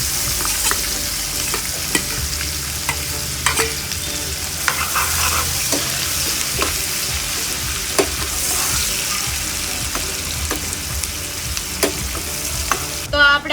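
Chopped onions fry in an oiled pan for idli sambar, a continuous close sizzle broken by frequent scraping clicks of a spoon stirring, steady and fairly loud with no voices.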